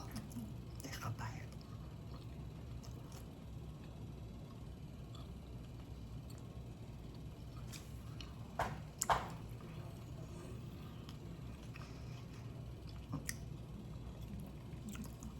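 Someone bites and chews stuffed crust cast-iron skillet deep dish pizza close to the microphone, with soft, moist chewing and a couple of sharper crunchy bites midway, faint and intimate, with some whispered speech.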